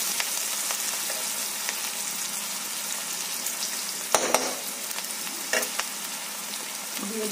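Whole spices including bay leaves sizzle steadily in hot oil in a pan while being stirred, with a few louder scraping clinks of the spoon partway through and no talking.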